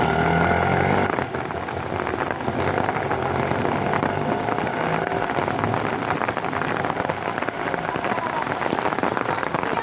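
Heavy rain pours over Jalna city and its surroundings during a stormy spell, a dense, steady roar of rainfall that stays loud and continuous throughout, with no clear thunderclap standing out.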